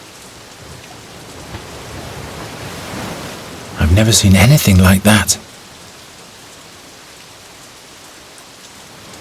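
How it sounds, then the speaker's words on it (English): Steady rain falls in the video game The Dark Eye: Chains of Satinav, a soft continuous hiss throughout, briefly covered midway by someone speaking. "It must rain here quite frequently"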